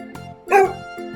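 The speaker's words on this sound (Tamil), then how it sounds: "நாய் என்ன சத்தம் போடுன்னு உங்களால யூகிக்க முடியுமா?" One short dog bark sounds sharply in the middle of a soft, pulsing musical background, with no one speaking.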